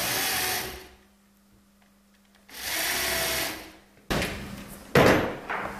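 Drilling clearance holes in timber with a countersinking bit, heard as two sustained whirring bursts separated by a quiet pause, followed by sharper clattering knocks near the end.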